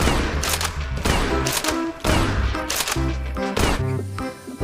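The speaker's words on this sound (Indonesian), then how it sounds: "di sini ada pistol mainan" A toy pistol fires rapid bursts of loud, sharp electronic gunshot sounds, several rattling volleys separated by short pauses, close up with no talking.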